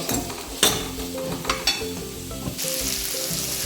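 Ingredients for a South Indian sambar are sautéed in a hot pan, producing a steady sizzle with intermittent stirring scrapes and knocks, the hiss growing louder and fuller toward the end.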